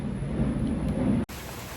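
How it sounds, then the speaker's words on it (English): Heavy rain pours down steadily as a dense, loud, close wash of noise that continues without a break and drops out only for a brief moment near the end. "And now we have full on rain."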